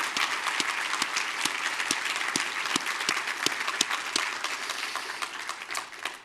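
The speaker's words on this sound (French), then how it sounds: "est-ce qu'on peut donner une main d'applaudissement pour encourager tous ceux pour qui c'est plus difficile ce matin?" A church congregation at a Father's Day service gives a sustained round of applause, dense and fairly loud, thinning slightly toward the end.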